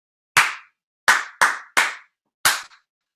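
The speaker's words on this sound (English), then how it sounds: "Everybody make sure you're clapping along with me." Five sharp, separate hand claps ring out in a loose rhythm, with a group clapping along at a music lesson; the claps come close together in the middle, and there is no talking.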